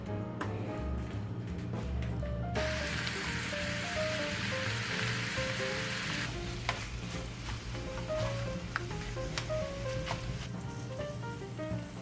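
Ground beef sizzling and crackling as it browns in a hot pan, a continuous frying hiss with occasional scrapes of stirring, fairly close and steady.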